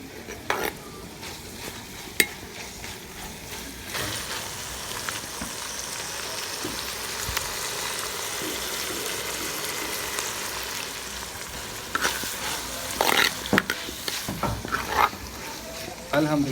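Vegetables and spice masala for a beef and bottle gourd curry are fried and stirred in a village kitchen, giving a steady close sizzle with scraping stir strokes that come and go, busier near the end.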